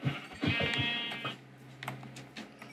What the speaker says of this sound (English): They're regenerating a lot of sheep.